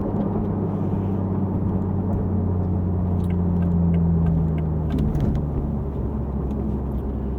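A 2023 Toyota GR Supra A91-MT Edition with a manual gearbox pulls away onto a freeway, heard from inside the cabin as a steady engine drone that rises in pitch mid-clip, then settles as a gear changes.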